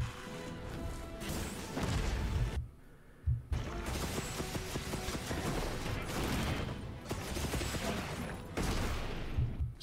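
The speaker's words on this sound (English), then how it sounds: "And then ends with the explosion." Gunlance blasts in Monster Hunter Wilds ring out as repeated heavy booms and crashes, a dense run of explosive hits with one brief lull, loud and close throughout.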